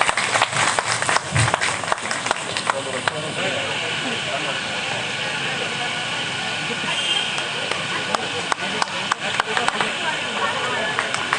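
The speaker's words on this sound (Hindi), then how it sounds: "हाँ इधर तालियां मारो" Audience clapping at an outdoor NCD health awareness camp, a dense steady patter of many hands lasting throughout, with a voice briefly audible over it.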